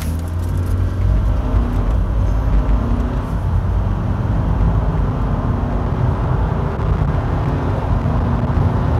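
A car engine roars steadily and loudly under hard 0-100 km/h acceleration in Sport Plus mode, a dense rumble with road noise, no talking.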